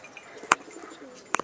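Pakistani pigeons from an old breeding pair making two brief, soft coos about a second apart, close by against a quiet background.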